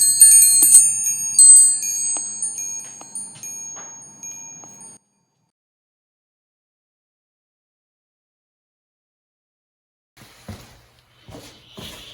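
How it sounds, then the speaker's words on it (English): Bright, layered chiming tones of a notification bell sound effect ring for about five seconds, then cut to silence before a few faint scattered noises near the end. "Ring the bell."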